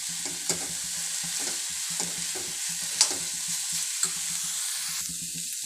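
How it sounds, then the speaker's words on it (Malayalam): A spoon stirs Kerala bean thoran in a pan with repeated scraping strokes over a soft continuous sizzle, a few sharper clicks against the pan, close by and without talk. "തോരൻ റെഡി ആയിട്ടുണ്ട്. ഇത് നമുക്ക് ഇളക്കിയെടുക്കാം."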